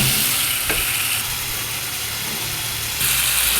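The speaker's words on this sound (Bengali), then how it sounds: "ছোটো মাছটা দিয়ে দেওয়ার পর হালকা নাড়াচাড়া করতে থাকবে।" Small fish frying in a spiced tomato masala for a Bengali chochori, a loud continuous sizzle with occasional scraping stir strokes in the pan, close up and without voices.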